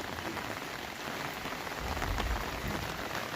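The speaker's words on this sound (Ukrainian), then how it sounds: "А дощ іде, як туман." Fine rain falls on a village garden with flowers and grapevines, a soft, continuous hiss of drops on leaves and surfaces, steady and close, with no voices.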